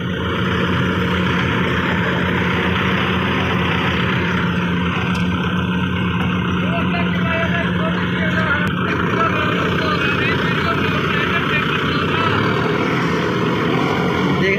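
A Kartar combine harvester runs in a rice field during the 1509 paddy harvest, producing a loud, steady mechanical drone that holds unbroken for the whole stretch, close by and dominating the scene.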